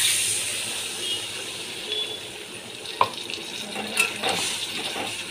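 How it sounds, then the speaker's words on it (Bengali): Water is poured into a pan of frying rui fish for a yogurt curry, giving a steady hissing wash with faint sizzle and a couple of small clinks, moderately quiet and continuous throughout. "এখানে আমি 1 বাটি জল দিয়ে দিলাম।"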